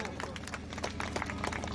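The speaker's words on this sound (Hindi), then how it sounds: "जोर से ताली बजाओ सब लोग" An audience claps at a ceremony honouring elders' service, a dense patter of many hands at moderate distance, quite faint, with a voice speaking over it.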